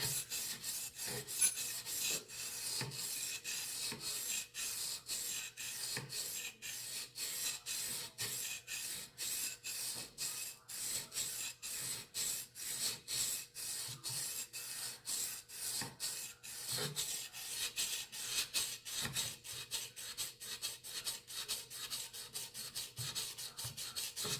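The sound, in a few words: sharpening a knife blade on a Konigsberg Crutch guided system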